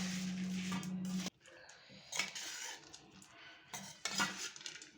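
Ingredients for raw mango churumuri, including green chilli paste and peanuts, are stirred together in a bowl, with a few distinct scraping and clinking bursts of a utensil against the dish in a quiet kitchen.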